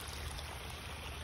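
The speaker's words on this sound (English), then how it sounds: "there's a river of silt" Storm water runoff flowing as a river of silt off a granite rock quarry after an October storm in Suwanee, Georgia, a steady close rushing stream of water with a continuous broadband wash and no voices.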